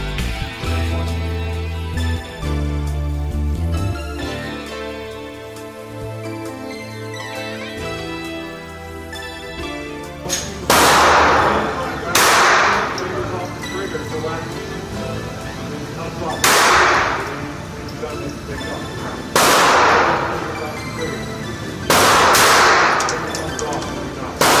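A Ruger SR-22 pistol fires about five sharp, loud shots spaced a few seconds apart, following a stretch of background music.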